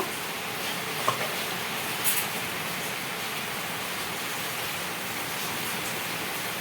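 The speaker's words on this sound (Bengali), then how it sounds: "এখন এর সাথে আদা রসুনের পেস্টটা অ্যাড করব।" Ginger-garlic paste fries in a pan of oil with onions already browned, making a steady, even sizzle throughout. There is a faint clink near the start and a brief stir a moment later, with no talking.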